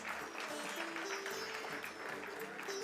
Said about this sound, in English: Keep the applause going, my dear friends.